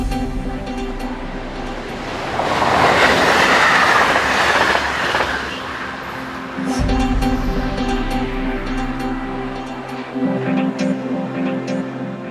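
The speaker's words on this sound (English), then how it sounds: "Finally, unit number 333 heads south with the 1202 service from Lille to Saint-Quentin." Train unit 333 on the Lille to Saint-Quentin service passes with a swelling rumble and rattle of wheels on track, peaking mid-way, then continuing as a steady rolling drone with clatter.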